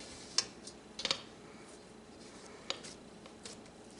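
A pizza base set onto a metal pizza tray in a home kitchen gives a few light, brief clinks and taps, close and quiet, spaced apart with soft handling noise between.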